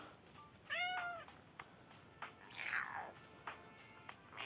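A cat gives a clear meow nearby, followed by a second drawn-out, higher meow, with soft rustling and quiet background between.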